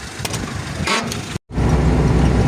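Car driving on a rural road in the Poltava region, a steady close rumble of tyres and engine with road noise throughout, broken by a brief silent dropout before the drone resumes.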